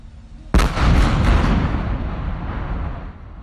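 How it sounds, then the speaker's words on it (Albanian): A four-storey building in Fier brought down with TNT charges set in about 400 holes: a sudden sharp blast after a quiet moment, followed by a long roaring rumble of collapse that slowly fades. "Një ndërtesë katërkatëshe është shembur me tritol nga Inspektorati i Mbrojtjes së Territorit në Fier."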